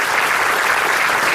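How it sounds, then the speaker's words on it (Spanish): A church congregation applauds a pastor at a Puerto Rican service, with dense, loud, sustained clapping throughout and no voices above it. "Yo creo que él merece un fuerte aplauso."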